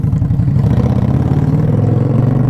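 Indian Scout Bobber motorcycle running with a quickshifter, a steady, loud engine drone with a rough low throb that holds fairly even throughout, close up and without voices.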